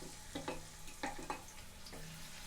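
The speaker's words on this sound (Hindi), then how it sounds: "प्याज को लगातार चलाते हुए मीडियम फ्लेम पर हम थोड़ा सा भून लेंगे" Chopped onion, ginger and green chili frying in a pan over a medium flame, a soft steady sizzle broken by a few light stirring scrapes, close but quiet.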